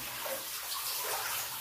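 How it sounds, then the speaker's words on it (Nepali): Hot water in a hotel bath, a soft continuous watery wash and gentle sloshing, close and fairly quiet, with no voice. "म यो तातो पानीमा बस्नेछु शरीरलाई स्नान गराउनेछु शरीरलाई पानीमा डुबाउनेछु"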